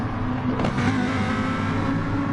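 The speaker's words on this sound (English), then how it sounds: "How good did that McLaren just sound there?" A McLaren supercar engine in a racing video game revs hard and steadily at full throttle, a loud continuous drone from start to finish.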